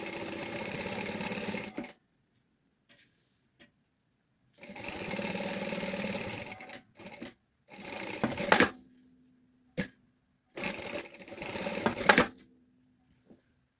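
A sewing machine stitches fabric lining for a handbag in several bursts of whirring, each a few seconds long, separated by silent pauses, close and fairly loud.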